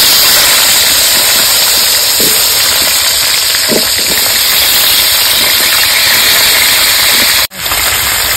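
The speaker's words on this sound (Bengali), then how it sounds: "এবার আমি আলুগুলো ভেজে নেব।" Potatoes fry in hot oil for a fish curry, giving a steady, loud broadband sizzle and hiss that runs unbroken, with a few faint clinks and an abrupt brief dropout near the end.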